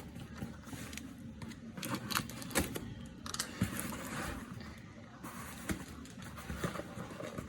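Cardboard box being opened during an unboxing, heard as close, irregular crackling, tapping and rustling handling noises with sharp clicks, continuing steadily throughout with no voice.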